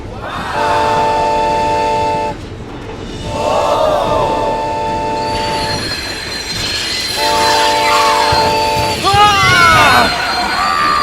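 A LEGO train strains up a sloped track while electronic horn-like tones sound repeatedly in loud bursts, with a steady mechanical hum and wheel squeal beneath.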